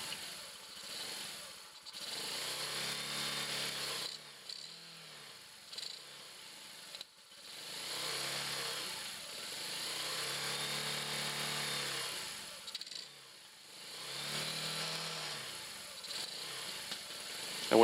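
A Honda postie motorcycle's small engine, its carburettor freshly cleaned, running in bursts with the throttle worked by hand, revving up and dropping back to idle several times, with brief quiet gaps between runs, close and fairly loud.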